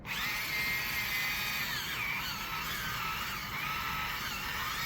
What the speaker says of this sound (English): So I'm using here this handy dandy drill.